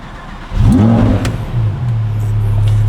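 A Lamborghini Huracan Evo with a carbon exhaust cranks and fires up with a loud, sharp rev that swells and falls back, then settles into a deep, steady idle close by.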